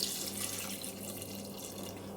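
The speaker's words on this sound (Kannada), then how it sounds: "ಅದಕ್ಕೆ ನೀರು ಹಾಕ್ಕೊಳ್ಳೋಣ." Water pours in a steady, faint stream onto cut raw jackfruit pieces in a cooking pot, a continuous splashing trickle with no talking.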